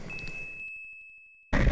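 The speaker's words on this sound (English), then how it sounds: "Oh, I love the beep." Retro Sega console sound-chip beeps from a video game: a steady high electronic tone with a rapid series of short bleeps that fade away, then a sudden louder burst of sound at the end.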